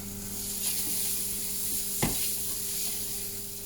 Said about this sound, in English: Put that in the pan. Garlic's going in there.